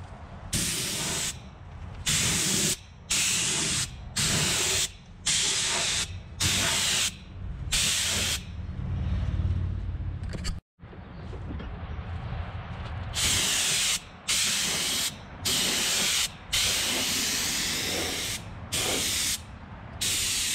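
A can of gloss Hunter Green Rust-Oleum paint sprays a second coat in repeated loud, close hissing bursts of about a second each, with one long continuous spray in the middle and a brief pause.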